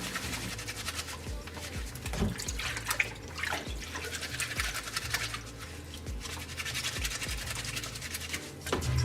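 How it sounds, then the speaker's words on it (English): A cloth face mask is scrubbed hard and rubbed against itself in hot water, giving irregular wet scratching and swishing strokes with small splashes, close and moderately loud. "Whenever you're scrubbing your mask and you're washing it, just rub it together like this."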